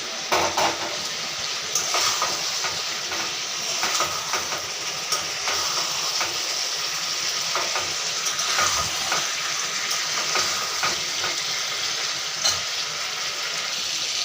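Fried potatoes tipped into a pan of sizzling spiced meat, a steady loud hiss and crackle of frying that runs throughout, broken by occasional clicks and scrapes, with no talking.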